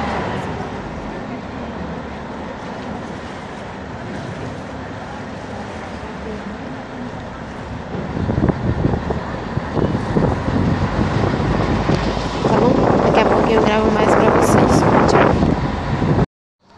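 Small boat crossing a cut stretch of water, with steady wind buffeting and engine drone throughout, growing louder and rougher midway, with voices talking over it.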